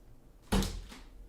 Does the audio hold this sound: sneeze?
no